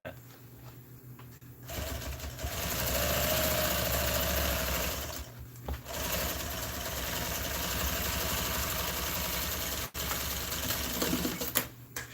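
A sewing machine stitches a seam on motor home seat upholstery with a steady, close mechanical whir. The whir runs for long stretches with a couple of short pauses and shifts in speed.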